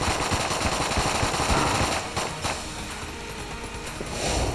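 Rapid automatic gunfire in the video game Enter the Gungeon while fighting the Dragon boss, a dense, loud stream of shots over a continuous roar of game effects, with bursts carrying through to the end.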